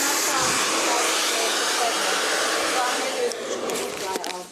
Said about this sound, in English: So just going to wait a second for hair dryer.